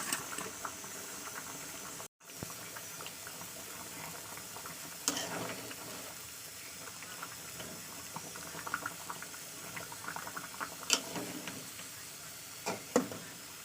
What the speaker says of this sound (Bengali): এবার এই পর্যায়ে আমি দিয়ে দেবো মাছগুলোকে তো চলুন দিয়ে দিচ্ছি মাছ